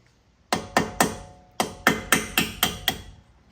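A drill bit used as a makeshift punch is struck to knock a part loose on a BMW 335i, giving about nine sharp metallic taps in a steady rhythm, close and loud with no talk over them.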